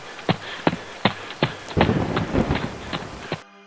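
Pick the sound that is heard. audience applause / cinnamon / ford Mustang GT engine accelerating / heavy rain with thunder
heavy rain with thunder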